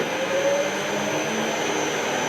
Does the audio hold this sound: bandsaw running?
yes